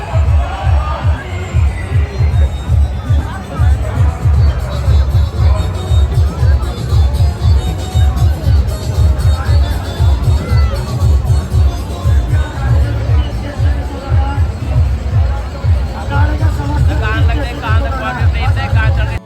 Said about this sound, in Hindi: इस साल मुझे पिछले साल से काफ़ी ज़्यादा भक्तों की भीड़ लग रही है